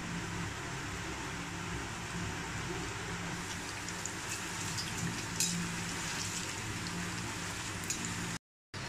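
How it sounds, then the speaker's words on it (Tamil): Potato fries frying in hot oil over a medium flame, giving a steady, dense sizzle with fine crackling throughout, close and continuous with no voices, briefly cutting out near the end. "உருளைக்கிழங்கு நல்லா வேகற வரைக்கும் வறுக்கணும்ங்க"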